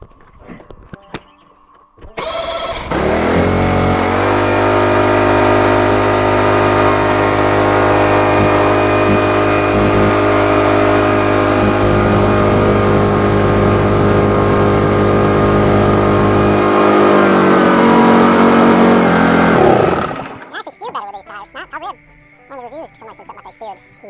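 A John Deere 165 riding lawn mower starts up and runs steadily at a loud, even drone for about seventeen seconds before cutting off abruptly, with voices talking faintly after it stops.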